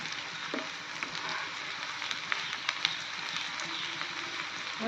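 Onions fry in a pan for a small bele fish curry, making a steady, close, even sizzle with a few faint stirring ticks throughout.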